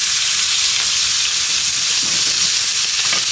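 Green tomato slices fry in a pan with a steady, loud, close sizzle and crackle that carries unbroken throughout, with faint scraping underneath.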